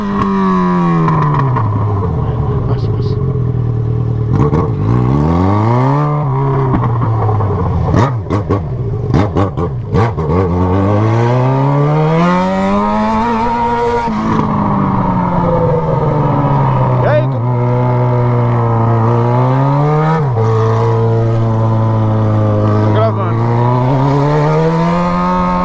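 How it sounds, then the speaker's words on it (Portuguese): Night street traffic of cars and motorcycles, engines revving and rising and falling in pitch as vehicles pass close by, loud and continuous for the whole stretch. "Tá bagaceiro, ó, o trânsito."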